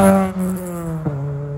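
Sustained engine note of a 2000 Ford Puma 1.7 track car, a steady buzzing drone with a brief blip partway through, heard close and alone without speech.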